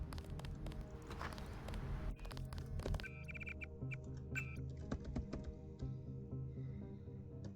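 Keyboard typing in a video game during a mission, rapid clicky keystrokes in bursts over a steady low game hum, fairly close and moderately loud.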